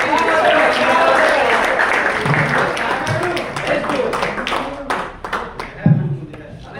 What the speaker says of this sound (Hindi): तो एक बार जोरदार तालियां इन दोनों के लिए।